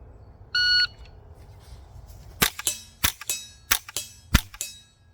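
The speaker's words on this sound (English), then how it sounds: "You're going to shoot 4 rounds in 6 seconds." A timer beep, then a suppressed pistol fitted with a SilencerCo Sparrow fires shots in quick succession on a shooting range, sharp muffled cracks with metallic ringing, loud and close, no talking.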